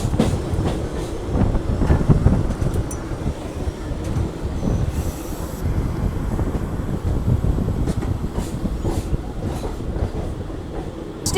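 A DEMU train runs from Ballari to Davanagere, heard from inside as a loud, steady rumble of wheels on rails with rhythmic clacking and occasional squeals.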